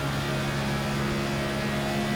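A NASCAR race car in the iRacing sim holds a high, steady engine drone in 5th gear at Michigan, loud and continuous with no talk.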